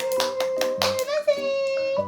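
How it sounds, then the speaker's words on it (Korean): A small child claps hands several times in quick, uneven succession, the sharp close slaps mixed with a child's sustained vocalizing. "박수!"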